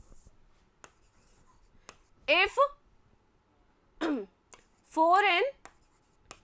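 Pen or marker strokes scratch across a board or paper during a Class 10 maths lesson, short faint scrapes between spoken phrases, with a woman teaching aloud in Hindi and English.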